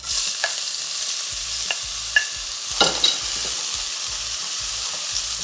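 Onions frying in a pan with garlic cloves and whole jeera for curry aloo give a steady, close sizzle, broken by a series of sharp spoon scrapes and clinks as the pan is stirred. No one speaks.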